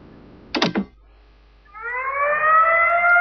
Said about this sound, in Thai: ฉันมีเสียงไซเรนข้างนอก